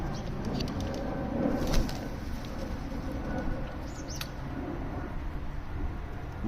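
Hungry pigeons coo softly while being fed along a path of bird food outdoors, with low continuous murmuring, a few brief chirps and faint rustling over steady ambient noise.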